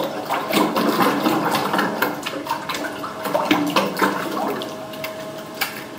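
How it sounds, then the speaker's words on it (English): Papermaking formation agent in water is stirred vigorously, giving a dense, wet, sloshing and slurping churn with quick irregular splashes, close and continuous. "Mix very vigorously. And it should make like a kind of a slimy noise."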